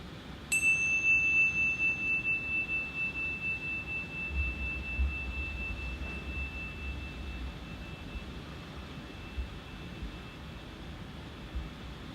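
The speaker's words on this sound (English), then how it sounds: "you will hear the sound of a chime" A single meditation chime strikes once and rings clear and bright, its pure tone fading slowly over several seconds above a low hiss, with no talk.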